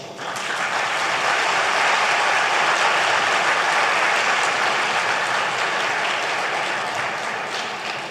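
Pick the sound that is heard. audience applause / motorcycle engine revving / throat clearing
audience applause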